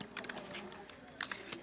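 Quick, light keystrokes on a computer keyboard entering a definition, a short run of close taps in two small clusters, faint and brief with no other sound.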